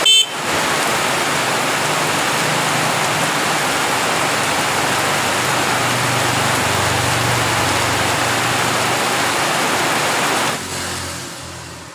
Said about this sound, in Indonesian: Dan ini klaksonnya.